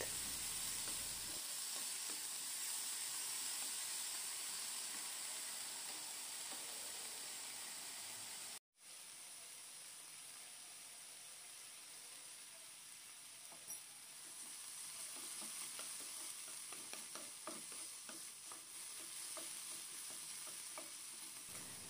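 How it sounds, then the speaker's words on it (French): Onion and bell peppers frying in vegetable oil in a pan, a steady loud sizzle with faint stirring scrapes, after a brief pause partway through. "je vais faire revenir l'oignon avec les poivrons en couleur dans cette poêle dans laquelle j'ai ajouté un peu de l'huile végétale"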